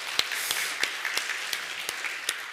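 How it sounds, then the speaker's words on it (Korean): A church congregation at a Sunday service applauds, a brief, even wash of many hands clapping at moderate distance, with a few sharper individual claps standing out. "우리 하나님께 감사의 박수 한번 올려드리겠습니다"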